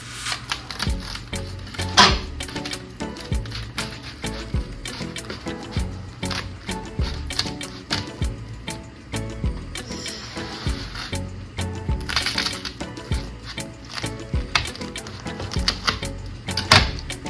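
Kitchen scissors snipping through a homemade Taco Bell-style Mexican pizza, a long run of close, crisp clicks and crunchy cuts in uneven bursts, with occasional louder snaps.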